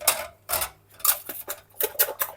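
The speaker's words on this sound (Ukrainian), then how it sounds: "і починаю збивати на парі." Rapid bursts of a whisk scraping and beating egg whites with a little salt in a metal bowl over steam from boiling water, irregular quick strokes with brief pauses between them.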